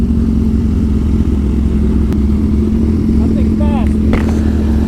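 A Kawasaki Ninja H2 motorcycle engine runs in a loud, steady, throbbing drone close by while someone talks over it.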